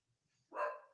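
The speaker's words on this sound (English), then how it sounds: "Excuse my puppy dog." A puppy lets out one short, sharp bark after a moment of near silence. It sounds fairly faint and a little distant, indoors.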